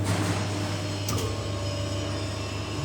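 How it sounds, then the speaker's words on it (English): The vacuum pump of a REXON ZYD-100 transformer oil purifier runs steadily up close, a constant mechanical hum and drone with a brief clatter partway through. "Now vacuum system is working."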